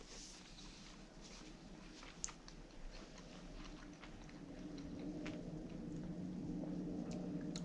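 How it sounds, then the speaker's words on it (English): Close, quiet chewing of a bite of pasta in Rao's bolognese sauce topped with pecorino romano cheese, with soft, wet, continuous mastication sounds and no talking. "First bite of the Rayo's Bolognese pasta sauce."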